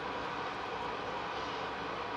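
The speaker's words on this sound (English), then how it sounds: "I'm heating up some water." Water heats up on a kitchen stove, a steady broadband roar and hiss like a kettle nearing the boil, constant and fairly loud for the whole stretch with no talking.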